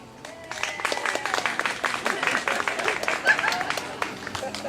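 Audience applause at a main-stage show at the Woodlands Folk Fest, clapping steadily as a vote, with scattered cheers and voices mixed through the crowd noise.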